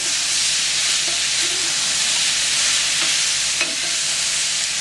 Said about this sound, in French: on rajoute la tomate qui a été taillée en petits cubes